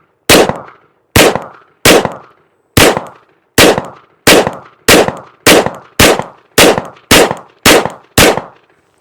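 A PSA Dagger Micro pistol fires Underwood 68 grain ammunition in twelve loud, sharp reports spaced about a second apart. Each shot is close and cracking and decays quickly, with brief pauses between some of them.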